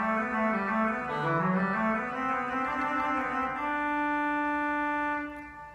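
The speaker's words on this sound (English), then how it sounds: "And today I will be doing that on the swell division with the help of the oboe and an 8-foot flute." A pipe organ's swell division sounds an oboe stop with an 8-foot flute, carrying a sustained Bach tenor melody line; held, steady notes move smoothly and fade out near the end, with no voices.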